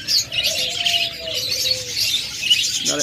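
Caged budgerigars and cockatiels chirp and twitter steadily in a busy chorus, with one longer whistled note standing out, moderately loud and close.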